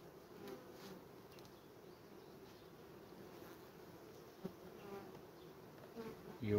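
Honey bees buzzing around a hive during sunflower harvest season, a steady, soft, continuous hum of many insects with faint rustling and a brief knock near the end.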